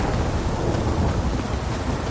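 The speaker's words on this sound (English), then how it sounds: "This downpour's a bastard" Heavy rain pours down in a dense, continuous roar, steady and loud with no pauses.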